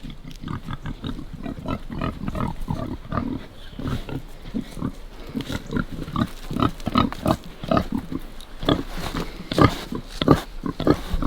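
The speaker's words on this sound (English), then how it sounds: "Let's go check on the pigs one more time and see how they're getting used to the trailer." Pigs grunt and oink busily in a pen that has a trailer set inside it, a dense stream of close, overlapping snorts and grunts from several animals throughout with no talking.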